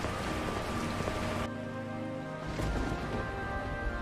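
Heavy rain pours down in a steady, dense patter on the surfaces nearby. Faint tonal sounds run beneath it and the downpour briefly thins partway through, with no one speaking.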